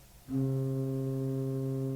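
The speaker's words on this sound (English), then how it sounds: "They're the main sound of the organ, and so they're called principals." A steady pipe organ tone from the principal stops swells in after a brief quiet moment and holds evenly, a clear sustained sound with no voices.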